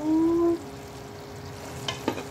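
Coconut milk and sugar cook down into latik in a pan, a soft steady sizzle under quiet stirring, with a short tonal beep at the start and a couple of light scrapes near the end.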